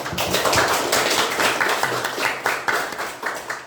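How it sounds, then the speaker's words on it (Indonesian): A classroom audience of student teachers claps after a presentation session, uneven bursts of hand claps rising and falling in waves, close and fairly loud, with no talk over it. "Tepuk tangan untuk kita semua"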